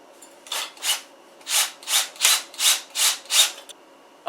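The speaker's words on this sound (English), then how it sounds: "Now I'm going to snug up the screw." A screw being tightened by hand while installing a Magvent MV 90 magnetic dryer vent: about seven rhythmic rasping turns, close and crisp, each a short scraping stroke with brief pauses between.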